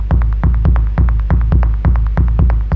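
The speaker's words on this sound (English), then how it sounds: "I do think the toms sound much more powerful after the overstay as well, with some distortion added" Distorted drum toms processed through an Overstayer with a high-pass filter, a fast repeating pattern of heavy booming hits with a throbbing low end, loud and alone.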